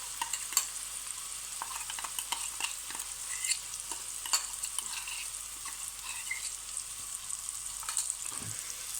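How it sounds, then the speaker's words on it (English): Spice paste for Goan king prawn xacuti frying in a pan, a continuous bright sizzle and crackle with scattered spattering pops and occasional stirring scrapes, close and steady throughout. "we're going to now fry our spice paste out, which is proving to be stubborn."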